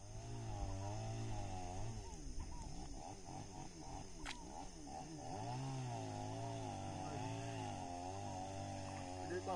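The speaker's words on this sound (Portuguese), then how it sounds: "zoada do motor" A boat motor drones on a lagoon with a steady harmonic hum, its pitch wavering up and down across several seconds, heard at a moderate distance with a faint background hum.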